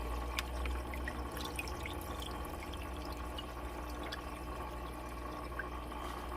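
A Hygger 5-in-1 HG052 internal aquarium filter with a power head runs in a fish tank, giving a steady low hum under a continuous soft watery trickle and burble, with no talking.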